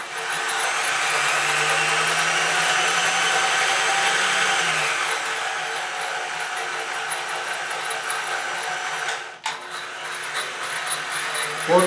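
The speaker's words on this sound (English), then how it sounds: "I'd like the drill motor to run a little faster" A drill motor drives a homemade wood lathe, giving a steady close whine for about five seconds before it winds down, then a sharp knock and faint handling noises.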